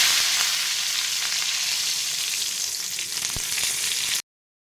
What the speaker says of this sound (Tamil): கடாயில் வந்து எண்ணெயை ஊற்றி இதில் கடுகு போட்டு கடுகு பொரிஞ்சதும் இதில் கருவேப்பிலை போடுற மாதிரி